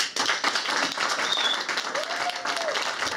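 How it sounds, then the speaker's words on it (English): A crowd applauds at a county board of education meeting, sustained clapping from many hands filling the room, close and steady, with some voices mixed in. "The crowd also applauded the board"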